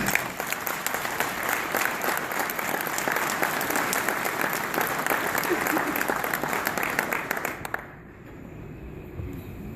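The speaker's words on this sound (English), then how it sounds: "I'd like to give you a round of applause." A crowd at an award ceremony claps steadily in a dense burst of applause that cuts off abruptly near the end, leaving quiet room tone.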